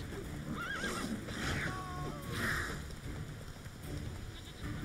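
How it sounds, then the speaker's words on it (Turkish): A horse neighs and whinnies in The Witcher 3, with a few clear calls over the steady clopping of hooves and a rain-like wash of game ambience, with a voice speaking faintly beneath. "Atım da yine dağları taşları aşmış, bana gelmiş."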